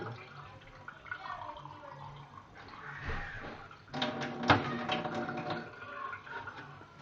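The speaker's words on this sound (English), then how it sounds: "I'm adding water" Hot water is poured into Akamu (pap) to make a paste, giving a faint, close trickle and splash that grows louder and fuller partway through.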